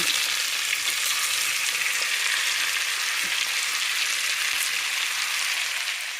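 Vegetables, likely sweet potatoes and onions, sizzle steadily in hot melted butter in a cast iron pan, a loud, continuous close-up frying hiss with no talking.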